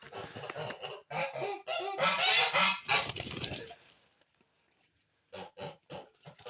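Kholmogory geese honk in loud, overlapping bursts, then go quiet briefly before a few more sharp honks close by.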